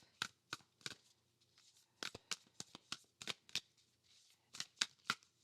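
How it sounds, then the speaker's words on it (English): A new matte-foiled tarot deck being riffle-shuffled by hand, crisp dry card flutters in quick bursts with short pauses, close and clear, no talking. "So let's see how well this shuffles."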